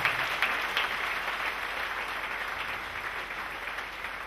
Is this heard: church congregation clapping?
yes